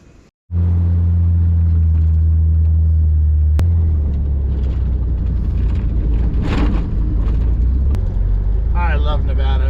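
A Jeep TJ rolls along desolate Nevada back roads, its engine and tires making a steady, loud low rumble with wind noise throughout. A voice briefly sounds near the end.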